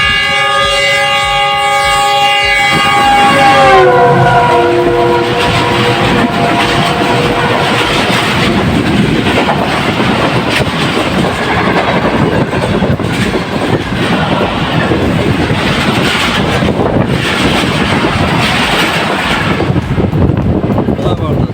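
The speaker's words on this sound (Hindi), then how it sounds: "सुबह के 10:05 आज का पहला एक्शन 8 डाउन पैगाम एक्सप्रेस" Pakistani express train 8 Down (Tezgam, Lahore to Karachi) passing Jungshahi railway station: a loud, sustained horn blast opens, then a continuous roaring rush and rattle of wheels and carriages goes by close at hand for the rest of the clip.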